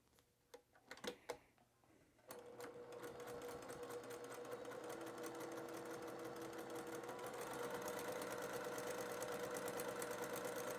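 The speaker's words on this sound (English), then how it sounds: "And then sew right out that other edge." A sewing machine runs steadily while stitching a seam on a sampler quilt, with a few brief clicks and taps at the start before the continuous motor hum and rapid needle ticking take over.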